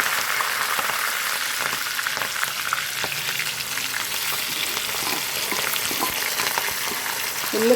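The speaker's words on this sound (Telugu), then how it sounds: "ఆవాలు వేస్తున్నాను." Mustard seeds frying in hot oil in a kadai, a steady close sizzle with faint scattered crackles and pops throughout.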